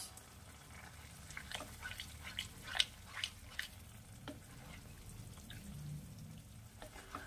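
Noodle soup with Schezwan sauce comes to a boil in a pot, giving faint bubbling, soft pops and light stirring clinks over a low simmering hiss.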